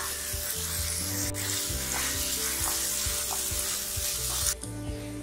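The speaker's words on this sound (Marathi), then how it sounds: "आता आपण आलं लसूण पेस्ट घालूया" Ginger garlic paste goes into green peas already frying in oil, bringing a loud continuous sizzle with rhythmic scraping strokes of a spoon stirring the pan and a brief tonal hum underneath.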